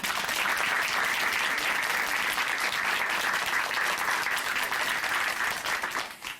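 Sustained applause from a church audience for a woman's Christian testimony on a Korean gospel television show, a dense steady clatter of many hands throughout that thins slightly at the very end.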